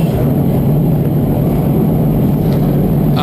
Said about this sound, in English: All those engines coming to life.